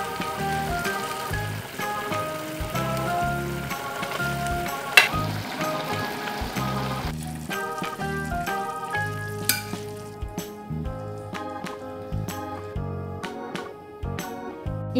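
Salmon frying in a pan with chili seasoning, a soft continuous sizzle under steady background music.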